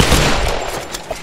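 Gunfire in the Tomb Raider video game: a short, loud, close burst of rapid shots, dense and harsh, with no pause and no talk.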